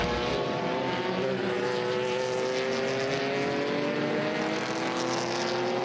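Vintage race cars in an SVRA Group 8 and 12b pack at Circuit of the Americas approach turn 12 off a long straightaway, engines droning loud and steady with rising, overlapping tones.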